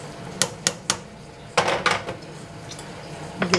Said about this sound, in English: Put it in with one spoon. And stir it down with another one.